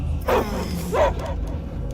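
Two short, gruff dog barks sound in the Guardians of the Galaxy video game, spaced about a second apart over a steady low game-audio hum, fairly close and loud.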